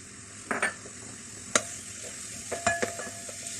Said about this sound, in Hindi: इस ऑयल में जो चॉप प्याज है हमारे पास, ये डाल देंगे।